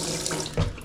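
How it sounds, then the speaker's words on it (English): Water runs from a sink tap in a steady, close, moderate flow, with a short heavier splash near the end. "The sink should have water."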